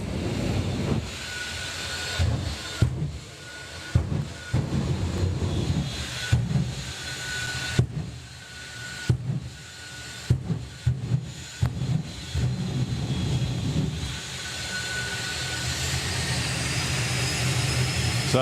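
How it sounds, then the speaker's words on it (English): Jet dragster turbine engine at a drag racing event spooling up, a rising broadband roar with hissing whine over background rumble, interrupted by repeated sharp pops and bangs, building louder toward the end. "So just building up the speed on the turbine then."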